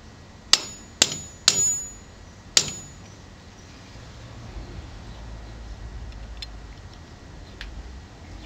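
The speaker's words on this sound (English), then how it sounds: "Just a few taps with the hammer will do it." A small hammer tapping model railroad wheels to adjust their gauge: four sharp metallic taps in the first three seconds, close and distinct, followed by quiet room noise.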